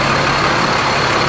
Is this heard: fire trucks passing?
yes